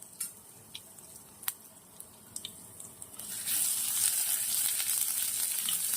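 Ginger garlic paste, curry leaves and a pinch of asafoetida hitting hot oil for a guava sabji, a few sharp clinks giving way to a loud, steady hiss of sizzling that swells and holds.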